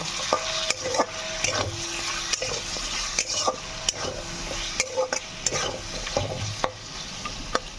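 Chopped onions and spices frying in a pan for a Bengali egg curry, giving a steady close sizzle broken by repeated scraping and knocking of a spatula as the mixture is stirred.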